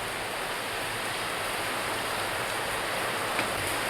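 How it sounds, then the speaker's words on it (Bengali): Steady nighttime rain pours in a constant, even hiss with dense patter on surfaces, close and unbroken throughout. "আর রাতের দিকে বৃষ্টি"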